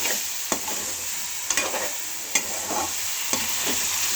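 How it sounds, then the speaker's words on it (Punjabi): Stuffed bitter gourds stirred in a pan, with a continuous close sizzle broken by roughly four sharp spatula scrapes at about one-second intervals; no speech. "ਚੰਗੀ ਤਰ੍ਹਾਂ ਹਿਲਾ ਕੇ ਤੇ ਢੱਕ ਕੇ ਰੱਖ ਦਾਂਗੇ ਤਾਂ ਜੋ ਸਾਡਾ ਕਰੇਲਿਆਂ 'ਚ ਮਸਾਲਾ ਪੂਰੀ ਤਰ੍ਹਾਂ ਐਡ ਹੋ ਸਕੇ"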